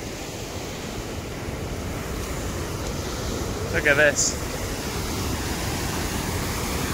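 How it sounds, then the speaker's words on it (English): The Waikato River near Lake Taupo, New Zealand, rushes in a broad, loud, steady roar, mixed with wind buffeting the microphone, while a voice speaks briefly partway through. "So this is on the Waikato River, which is the longest river in New Zealand."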